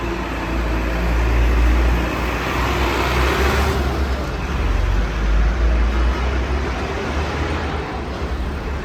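Vehicles idling and creeping in a stalled line on the Jammu–Srinagar highway blocked by a landslide, a steady low engine rumble with dense road noise throughout, fairly loud and close, with no voices.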